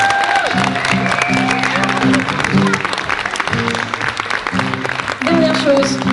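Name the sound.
audience applause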